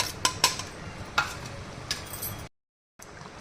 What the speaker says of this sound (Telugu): చిన్న చిన్నగా కట్ చేయాలి.